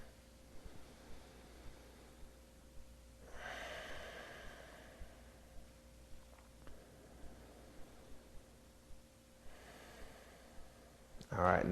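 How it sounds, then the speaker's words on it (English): Slow deep breaths during a yoga session for anxiety, soft inhales and exhales rising and fading in a calm rhythm, quiet and close, with faint rustling in the background. "2 more breaths here."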